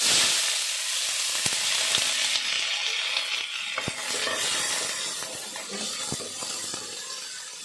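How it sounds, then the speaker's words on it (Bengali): Onions frying in a pan for chicken korma with cauliflower: a continuous close sizzle and hiss with occasional light utensil clicks, heard alone without talk. "এবার আমি পেঁয়াজটা ভাজা বসাবো"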